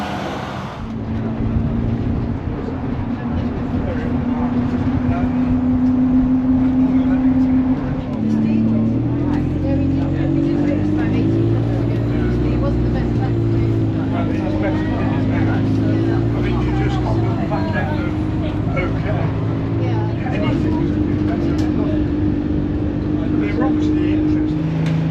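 Interior engine drone from a bus running from Salcombe to Totnes, steady and loud throughout with shifting pitch as it changes gear, plus faint rattles in the cabin.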